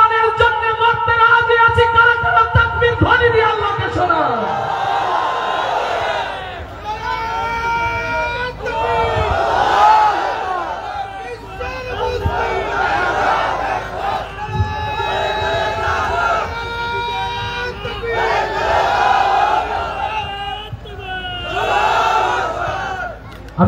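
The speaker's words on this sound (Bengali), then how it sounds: "কারা কারা তাকবীর ধ্বনি দিয়ে আল্লাহকে শোনায়?" A crowd chanting takbir, Allahu Akbar, at a Bengali religious gathering: several loud, swelling unison shouts in a regular call-and-response rhythm, preceded by a lone voice.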